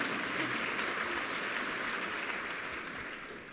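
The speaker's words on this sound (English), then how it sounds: "You can applaud. It's allowed." Audience applause at a national conference panel, a continuous broad patter of many hands clapping at moderate level, fading gently toward the close, no talking over it.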